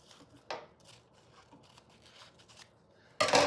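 Scissors trim a strip of printed book page for a silhouette craft, making a few soft, sparse snips in quiet surroundings before a sudden loud rustle at the very end.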